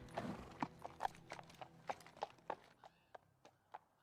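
Horse hooves clip-clopping at a slow, even walk, about a dozen distinct clops at a moderate distance, faint and quiet against a hushed background, from the Fallout TV series trailer.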